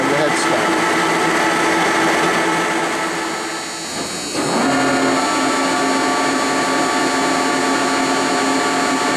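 Spindle of a 4-inch Lucas Model 441B-72 table-type horizontal boring mill running at 692 RPM, a loud, steady mechanical whine that dips briefly midway and then settles into a constant tone, with a voice talking over it.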